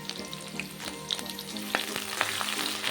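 Green chillies, curry leaves and chopped onion fry steadily in hot oil for a prawn and cucumber curry. A continuous close sizzle runs throughout, with occasional sharp crackles and pops and no talking.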